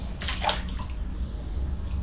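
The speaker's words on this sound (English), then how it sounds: "The water seeps out of those bricks there." Water trickles and sloshes in a flooded brick basement beneath a shed, a brief close splash followed by a faint, steady running wash.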